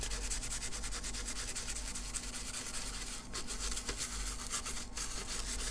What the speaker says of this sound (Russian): Почистим спиртом с бензином и еще раз посмотрим визуально